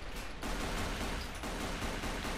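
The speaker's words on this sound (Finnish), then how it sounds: "Mitä mä tykitän suhun lippaalliseen eikä yksikään osu?" Continuous gunfire from emptying a full magazine in a shooter video game, dense rapid bursts filling the whole stretch, loud and close with no talk.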